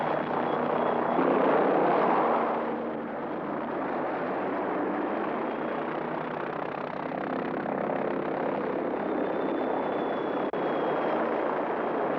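A military helicopter's rotor and engine drone continuously in old documentary footage, a loud, rough, slightly distorted roar that swells briefly early on and then holds steady for the rest of the clip.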